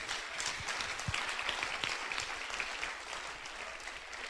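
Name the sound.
church congregation applause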